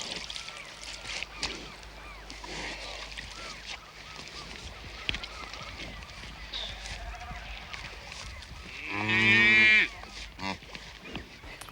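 A cow on a croft gives a single loud, drawn-out moo near the end, rising over a quiet outdoor background with faint scattered sounds.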